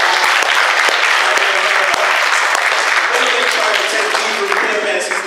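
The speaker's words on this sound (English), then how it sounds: "let's give Rashad a round of applause as well" Loud, dense applause from a large crowd at a candidate forum in a church, continuous clapping throughout with no pauses, close and full.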